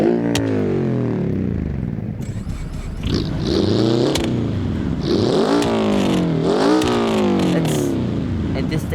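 A Lada Kalina street machine in BeamNG.Drive, formerly turbocharged, revs hard through rising and falling engine sweeps with tyre scrape, loud and close, while a person talks over it.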